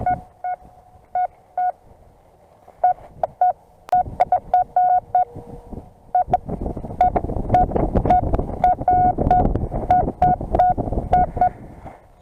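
A Nokta Fors CoRe metal detector repeats short electronic beeping target tones in steady bursts as the coil sweeps over a buried target, with heavy wind buffeting the microphone in the second half.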